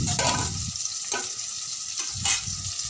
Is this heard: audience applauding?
no